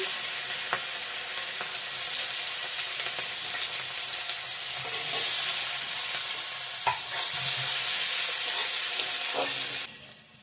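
Cumin and nigella seeds with chopped onion sizzle steadily in hot oil alongside bay leaf and five-spice, making a loud, continuous frying hiss with occasional clicks of stirring until it cuts off abruptly near the end.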